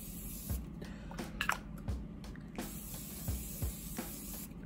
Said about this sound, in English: I'm gonna go with my Morphe Mini Continuous Setting Mist.